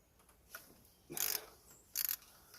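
A bolt being loosened on a 1991 Ford Ranger 2.3 liter engine during cylinder head removal: two short bursts of close ratcheting clicks separated by a brief pause, crisp against a quiet background.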